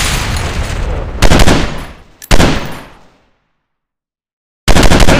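Loud, close bursts of gunfire from the mobile shooter Fire Squad Battleground, with sharp rapid volleys that ring out and trail off, then a stretch of silence before another burst starts abruptly.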